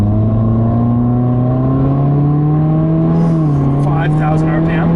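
A Subaru WRX in manual and sport mode pulls hard toward 5,000 RPM, a loud, close engine note climbing steadily, then briefly dipping and settling near the end.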